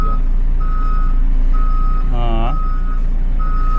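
A new JCB backhoe with DualDrive sounding its reversing alarm, steady evenly spaced beeps over loud idling engine rumble, with a short word spoken by a man in the middle.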